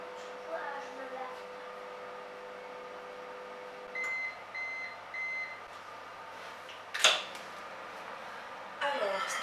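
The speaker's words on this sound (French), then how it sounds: "on va mettre ça 1 minute 10 au micro-ondes" A microwave oven hums steadily while heating a mug cake, its low drone running under quiet speech, then a short series of beeps sounds near the end.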